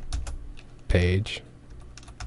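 Keystrokes of PHP code being typed on a computer keyboard, soft clicks close by, broken briefly by a short spoken word.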